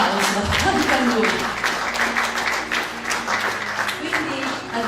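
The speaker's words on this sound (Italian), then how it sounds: "Desidero che gli raggiunga un bel applauso anche a lui." Audience applauding at a poetry and song event in Sicily, dense sustained clapping from a crowd, loud and close, with a voice and some background sound mixed underneath.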